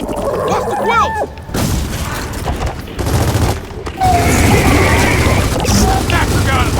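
Gunfire in the Gears of War 4 video game, with bursts of loud shots and booms that come close together, amid shouting voices and chaotic combat noise.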